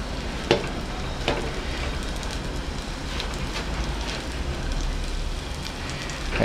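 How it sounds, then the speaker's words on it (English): Bread frying in oil in a pan on a home kitchen hob, a soft continuous sizzle and crackle with a couple of sharper pops near the start, close and steady with no talking. "Okay, so that's sizzling away quite nicely."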